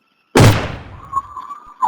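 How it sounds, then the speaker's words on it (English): A single loud gunshot cracks suddenly after silence, its echo decaying into a faint lingering hum. "a gunshot"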